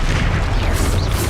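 A Bombarda blasting spell explosion in Hogwarts Legacy, a short loud booming blast with a dense roaring rumble that fills the whole moment, with no voices.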